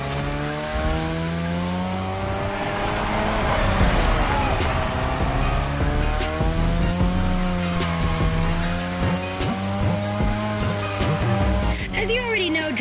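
A car drifts around a drift track in The Crew Motorfest, its engine revving loudly under long, wavering tire squeals that rise and fall in pitch, while a voice talks over it throughout.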